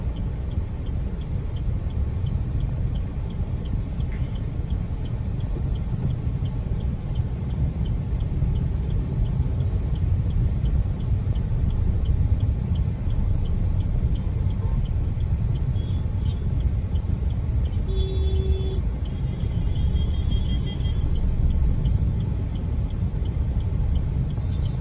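Busy road traffic in India, a steady low rumble of car and bus engines with a faint brief horn-like tone and occasional air brake hiss, continuous and fairly close throughout.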